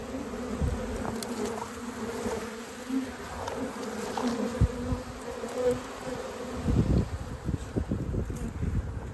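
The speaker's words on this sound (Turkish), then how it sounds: "Yine aynı tuzağımıza oğul gelmiş." Dense, steady buzzing of a honeybee swarm arriving at a trap close by, a continuous droning hum with some wind rumble and gusts toward the end.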